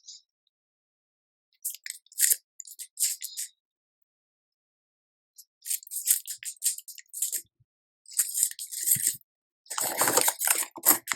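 Chewy gummy candy is chewed up close in short squishy, sticky bursts separated by silent pauses, the wet mouth sounds growing denser toward the end.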